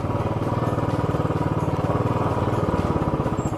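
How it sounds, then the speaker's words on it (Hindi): A motorbike engine chugs in a steady, rapid pulsing rhythm while riding a sandy, stony mountain road toward Pangong Lake, loud and close with no speech. "रितेश की बाइक फंस गई"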